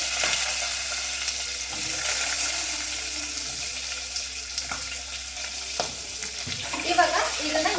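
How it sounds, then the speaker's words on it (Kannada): Ginger, garlic and onions frying in a pan, a steady soft sizzle running throughout with occasional stirring clinks and scrapes, no voices. "ಈರುಳ್ಳಿ ಒಂದು ಅರ್ಧ ಬೇಯಬೇಕು ಅಲ್ಲಿವರೆಗೂ ಇದನ್ನು ಫ್ರೈ ಮಾಡ್ಕೊಳ್ತೀನಿ"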